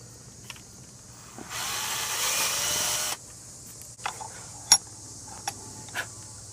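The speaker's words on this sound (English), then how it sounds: "go ahead and take your hex back over here and drill that out to 5mm" A power drill whirs steadily for about two seconds while drilling out an RC car wheel hex to 5mm, then cuts off, followed by a few scattered clicks and taps of handling nearby.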